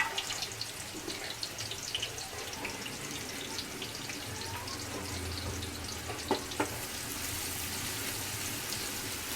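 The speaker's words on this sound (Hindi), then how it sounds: "तो ये हमारा ऑयल गर्म हो गया। अब हम इसमें प्याज डालेंगे।" Sliced onion frying in hot oil in a pan, a dense, continuous sizzle with a low bubbling undertone and a couple of faint clinks near the end, with no voices.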